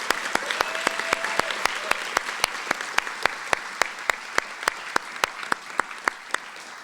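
An audience at an executive MBA commencement ceremony applauds with a steady stretch of sharp, evenly spaced claps, fairly close and unbroken, with no talking over it.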